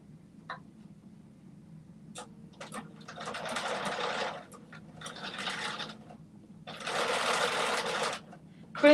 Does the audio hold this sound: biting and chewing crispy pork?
no